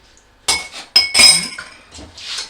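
A spoon clinks against the side of a bowl in a few sharp metallic taps, close by, with soft scraping between them.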